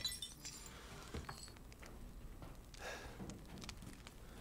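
A glass treasure item in Resident Evil Village gives off faint, delicate clinks and chinks, quiet and close, scattered across a few seconds.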